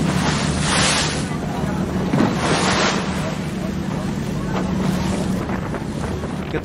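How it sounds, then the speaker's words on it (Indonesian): A cruise ship heading out to sea on the Bosphorus near Istanbul, a steady loud rumble of engine and water with heavy wind buffeting the microphone and faint voices mixed in. "Ketika kapal mulai bergerak ke tengah laut,"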